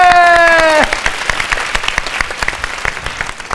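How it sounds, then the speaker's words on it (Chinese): A studio audience at a comedy variety show claps steadily after a sustained tone cuts off early, the applause continuing at moderate loudness to the end. "掌声鼓励"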